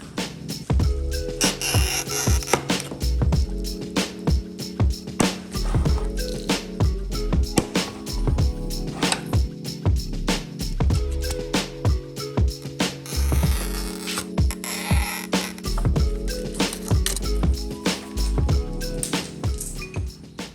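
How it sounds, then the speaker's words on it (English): A tile snap cutter scores and snaps backsplash tile. Close, repeated scraping strokes mix with sharp clicks, rattles and mechanical knocks in an irregular rhythm for about twenty seconds. "we're gonna try the snap cutter"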